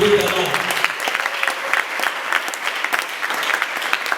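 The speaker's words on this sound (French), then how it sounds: "on va applaudir pour lui, c'est un artiste de l'IJPEC" An audience claps steadily for an artist at a training session on dissertation writing, with dense, even applause throughout and a brief voice at the very start.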